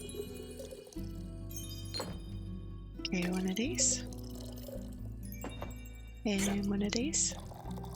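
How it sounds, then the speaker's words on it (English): Drinks being poured in the video game Tavern Talk, two bubbly liquid fills with chime-like effects over light background music, while a person talks over them. "Surely I can pour."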